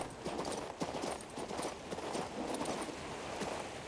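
Horse hooves clip-clop steadily in the King's Bounty 2 video game as the mount is ridden back toward a village, a continuous rhythmic patter of steps at close range with no talk over it.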